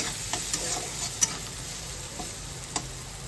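Vegetables stirred in a frying pan just after the lid comes off, a soft steady sizzle with a few light spatula taps and scrapes, close and brief.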